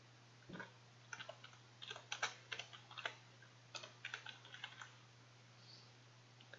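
Quiet typing on a computer keyboard comes as bursts of close, light key clicks in an irregular rhythm over a faint steady hum.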